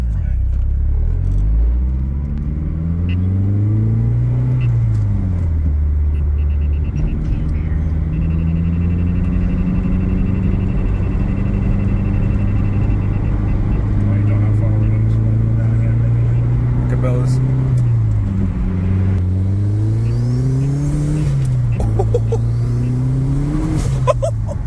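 Mazdaspeed 3 with a Corksport downpipe accelerating hard, engine rising through gears with repeated climbs and shifts and turbo spool, loud and continuous up close for the whole stretch.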